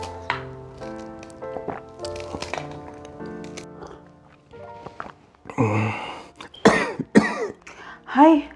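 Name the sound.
man coughing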